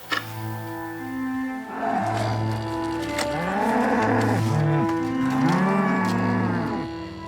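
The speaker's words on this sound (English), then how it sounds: "The Charolais cattle that graze on the castle's meadows" Charolais cattle grazing on castle meadows moo repeatedly and loudly, several long overlapping lowing calls from multiple animals close by, with no speech.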